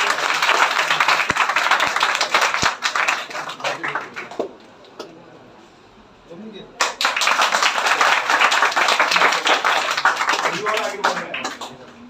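Audience applause for a student at a school toppers' awards ceremony, a steady wash of many hands clapping that dips to near quiet midway, then swells back to full, sustained clapping.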